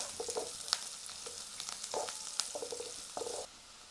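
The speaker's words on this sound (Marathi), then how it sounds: "कढीपत्ता टाकून घेऊ आता हे सगळं असं हलवून घ्यायचं चांगलं" Onion sautéing in a pan with curry leaves, stirred by a spatula, for an Ayurvedic vegetable dish: a steady soft sizzle with several scraping, clinking stirring strokes, close and moderately quiet, no talking.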